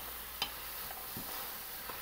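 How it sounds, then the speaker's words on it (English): A marinara sauce of San Marzano tomatoes sizzles softly in a pot, a quiet, even hiss broken by a few faint clicks and ticks. "So can you hear that sizzle?"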